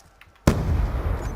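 A grenade blast in Call of Duty Black Ops 2 hits as one sudden loud boom after a quiet lead-in, then trails off into a sustained rumbling, crackling tail.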